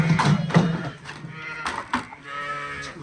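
Afghan Tozza ewes bleat outside at close range, several loud, wavering calls in quick succession followed by a longer drawn-out bleat.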